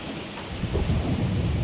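A thunderstorm in Age of Water rumbles with low, rolling thunder over a steady wash of heavy rain, swelling slightly louder partway through, with no voices.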